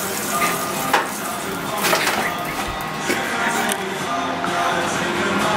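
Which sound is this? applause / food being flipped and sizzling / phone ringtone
food being flipped and sizzling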